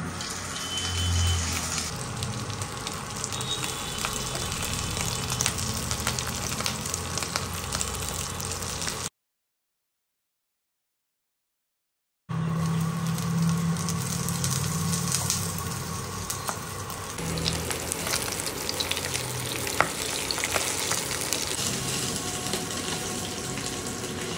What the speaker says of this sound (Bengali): মাছ ভাজি আমি আগে কখনো এরকম ভাবে ভাজিনি।